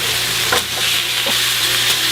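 A homemade hamburger patty fries in a pan, giving a loud, close, even sizzle with a few brief crackles throughout.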